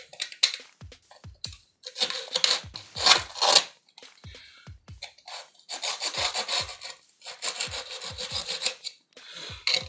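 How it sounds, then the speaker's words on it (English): Skateboard grip tape being filed and cut along the edge of the board: short, scratchy rasping strokes in irregular bursts, close up and fairly quiet, with pauses between passes and no talk. "now you can go ahead and cut the grip tape to the board"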